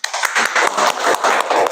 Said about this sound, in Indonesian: Oke, berikan tepukan.